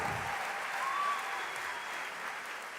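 An audience at a church youth conference applauds continuously, a dense, even wash of many hands clapping at moderate distance, with no break across the stretch.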